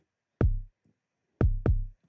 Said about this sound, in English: So I've got a kick that sounds like this on its own.